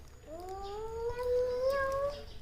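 A young child imitates a cat's meow with one drawn-out, rising vocal call that lasts about two seconds and sounds close and fairly clear.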